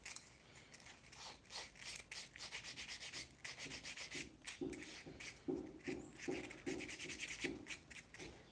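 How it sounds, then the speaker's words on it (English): Smooth sandpaper is rubbed along the edges of a handmade shoe in quick, rhythmic scratching strokes that stay fairly quiet and close throughout. "This is my smooth sandpaper."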